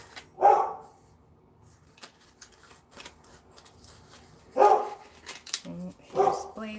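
A dog named Blaze barks twice, a single sharp bark followed later by another, with a rustle of paper between and quiet sounds near the end.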